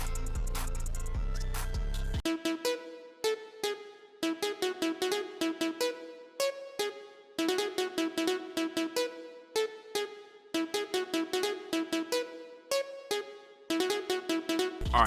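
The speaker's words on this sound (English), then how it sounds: "The next sound I added was this pluck from a Ian drum kit I have." A bright plucked sample from a drum kit, sequenced in FL Studio, plays a repeating melodic pattern of short, crisp notes in steady rhythmic bursts, loud and alone after a brief low-heavy opening.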